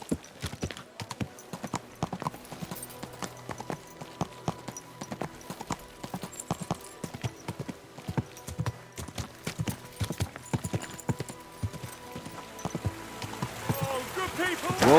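A horse walks on and on in Kingdom Come Deliverance II. Its hooves clip-clop in a dense, regular rhythm with soft ambient sound beneath, and the steps grow louder toward the finish.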